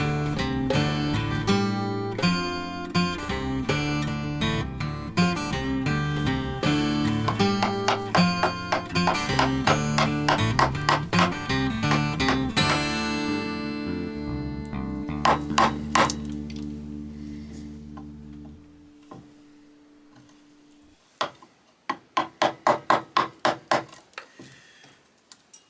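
Chisel chopping out waste wood for a bowtie inlay, a dense run of sharp, ringing mallet-driven strikes close by, followed after a pause by a quick burst of separate taps.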